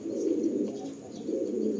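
A pair of Pilanka pigeons cooing softly in two low, rolling phrases, close by and alone.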